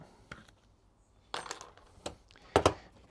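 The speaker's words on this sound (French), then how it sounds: "maintenant on va couper le fil de chaque côté parce qu'on en a de trop" Excess bonsai wire snipped on each side while mounting a tree on a rock, a few sharp metallic clicks spaced apart, the last pair loudest, in a quiet room with no talk.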